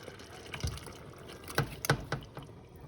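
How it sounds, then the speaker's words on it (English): Wet, sloshing pours and soft splashes of black beans into a simmering pot, a few irregular bursts over quiet background noise. "I'm going to pour the black beans."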